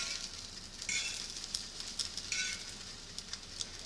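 Scrambled eggs sizzling and crackling in a pan, a faint, steady frying hiss with small pops, no talking.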